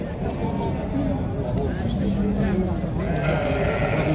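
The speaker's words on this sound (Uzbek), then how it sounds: "Sovuliq qo'ylar." Ewes bleating among a crowd at a livestock market, several calls rising over steady chatter and bargaining voices close by.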